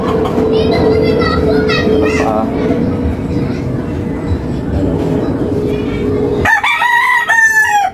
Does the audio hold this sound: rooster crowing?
yes